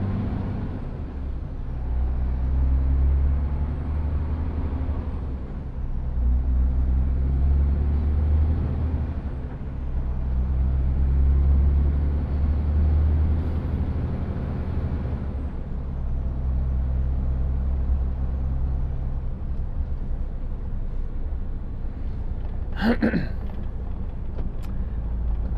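A lorry rumbles close by on a road near Warrington as a car drives alongside, a steady low engine and tyre drone throughout with someone talking, and a brief hiss near the end.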